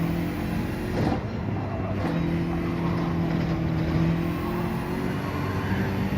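Heavy race cars loaded with fuel drone steadily through a racing video game, a continuous low engine hum with shifting pitch and a couple of brief gear-change breaks, with no talking.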